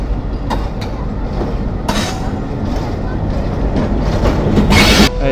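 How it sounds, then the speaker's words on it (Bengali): The Tungipara Express rolls along the main line near a junction, a loud, close rumble of wheels with clattering and occasional metallic bursts, steady across the whole stretch. "এই যে ট্রেন আবার চলে আসলো এখন মূল লাইনে"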